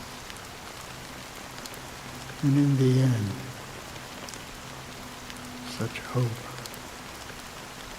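Steady rain falls throughout a scene in the video game Honkai: Star Rail, a soft continuous hiss that runs under a man's spoken dialogue.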